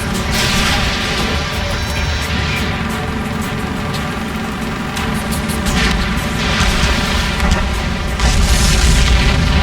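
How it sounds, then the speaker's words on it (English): A loud, dense rumble of explosions and engine roar fills a jet combat mission in the video game Ace Combat 7: Skies Unknown, a continuous heavy wash with boom bursts and no speech. "Did you see that explosion? Looks like that's one of them down."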